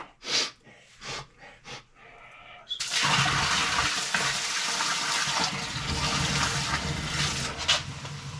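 Water pouring steadily into a sump pit to trip a newly installed sump pump, a continuous close rushing splash that starts suddenly after a few soft breathy sounds and runs loud to the end.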